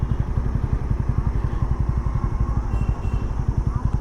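A motorcycle idles at a temple parking area, its engine thumping in a fast, even pulse close by. The beat holds steady throughout, with faint speech in the background.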